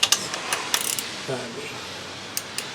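A ratcheting wrench on a 13 mm fastener of a 1999 Pontiac Grand Am 2.4L fuel pressure regulator gives a few sharp metallic clicks and short ratchet bursts, close and moderately loud, with no talk.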